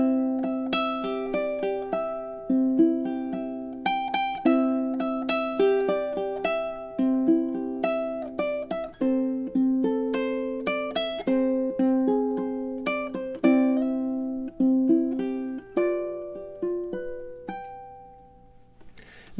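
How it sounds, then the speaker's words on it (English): Fingerpicked ukulele chord melody, plucked notes ringing clearly and close, a steady flowing rhythm of melody over chords, played solo without talking. "playing the chord melody with fingerpicking"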